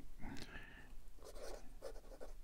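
A 1937 Sheaffer Balance fountain pen with a 14 karat gold fine nib writes on Clairefontaine 90 gsm paper, giving soft, close scratching strokes in short bursts separated by brief pauses.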